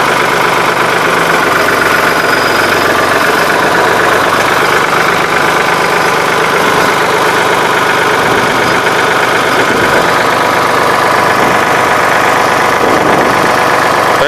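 A 1983 Ford 3910 tractor's diesel engine running and idling, loud and close with a steady low chugging rumble and vibration throughout.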